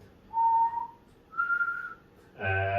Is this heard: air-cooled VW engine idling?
no